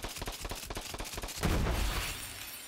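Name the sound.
Night Flyer pistol firing in video game Borderlands 3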